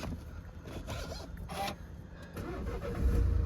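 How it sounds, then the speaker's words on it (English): A BMW X1 20d M Sport xDrive diesel being started: a starter whirr and catch, then the engine settling into a low, steady idle heard up close with no talk. "I'll just start the car up."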